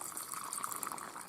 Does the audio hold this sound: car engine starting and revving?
no